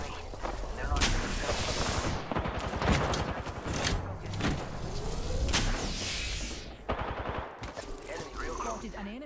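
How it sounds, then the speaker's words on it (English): Gunfire in the video game Apex Legends: dense bursts of rapid shots and booms crackle loudly throughout, with repeated volleys and brief pauses, mixed with game effects and a voice speaking at times. "They're shooting at me."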